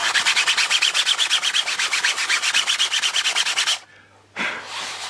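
Hand sanding scrapes across the surface of a Kwik-fli Mk III model airplane in quick, even back-and-forth strokes, a close, rhythmic rasping that pauses briefly before one more longer stroke.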